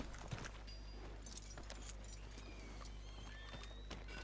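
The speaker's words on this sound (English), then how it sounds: "I just booted that horse up the arse." Horse hooves clip-clop rapidly in the video game Red Dead Redemption 2 over a steady low engine-like hum, with faint game effects and a soft whinny-like tone in the background.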